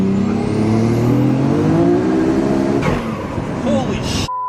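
A 1000 HP Nissan Skyline R34 with a manual gearbox accelerates hard, its exhaust note climbing steadily in pitch as the revs rise, loud and close, then easing briefly before a sharp cutoff near the end.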